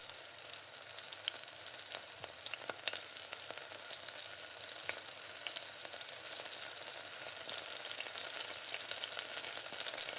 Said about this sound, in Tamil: இப்போ தக்காளியை சேர்த்து, தக்காளி வதங்குறதுக்கு லேட்டாகனால ஒரு கொஞ்சம் உப்பு சேர்த்து நல்லா வதக்கிக்கோங்க